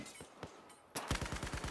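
PKP machine gun in Battlefield 4, two short taps of single shots, then a rapid burst of about seven rounds with a sharp report and echoing tail, loud and close.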